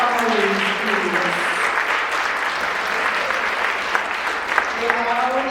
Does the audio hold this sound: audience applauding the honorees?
yes